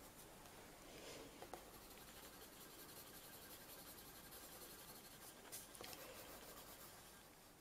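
A pencil shades the shadow beneath an apple sketch on paper, a faint continuous scratchy rubbing with a couple of brief sharper strokes, close and quiet without talk.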